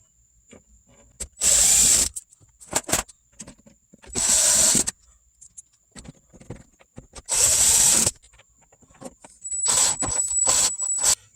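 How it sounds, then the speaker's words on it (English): Power driver spinning 7mm screws into a brake booster plate on a Chevy Blazer/S10, four separate bursts of whirring with pauses and small clicks between, fairly close and loud. "grab our 7mm screws. And we're going to screw in these 4 holes."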